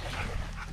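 A wet large German Shepherd and another dog play at the Mississippi River, giving a brief close whimpering yip and bark over steady broadband noise.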